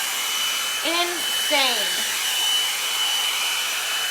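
A rose gold blowout brush blows hot air in a steady, loud, close whoosh that runs unbroken through the whole stretch, with a brief excited voice breaking in near the start.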